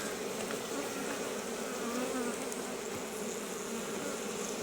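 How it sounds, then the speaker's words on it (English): Bees swarm at a duckant beehive during an early-morning cutout, a dense, steady, close buzzing drone that fills the whole stretch without any talk. "Lots of bees."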